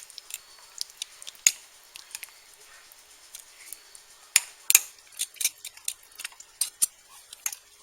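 A spoon scrapes and taps through cooked BBQ beef as it is shredded, giving scattered light clicks and scratches that bunch into quick clusters, close and fairly quiet.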